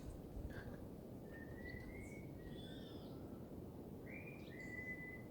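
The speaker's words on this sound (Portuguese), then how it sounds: "tem um passarinho aqui" A small bird chirps faintly in the distance, giving a handful of thin, rising whistled notes scattered across a few seconds over a steady background hiss.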